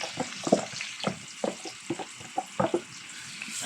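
Pork and guava stirred in a frying pan over onions, with a soft sizzle underneath and a series of distinct scraping, clattering spatula strokes at an uneven rhythm, close and fairly loud.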